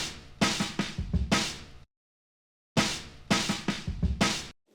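A snare drum sample from a drum pack plays alone as a swung pattern of crisp, close hits with soft ghost notes, running twice with a brief silent gap between.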